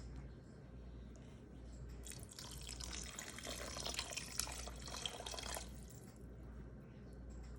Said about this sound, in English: I have another 1 cup of water that I am going to add into this to help cook the lentils.